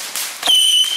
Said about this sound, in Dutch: Dit is categorie 1 vuurwerk.